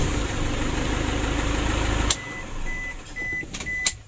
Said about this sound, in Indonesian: Ya untuk mesinnya sudah hidup